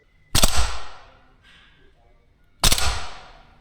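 A VFC AK105 gas blowback airsoft rifle fires at a backboard: two sharp, loud cracks about two seconds apart, each with a short mechanical clatter and a quick fading tail.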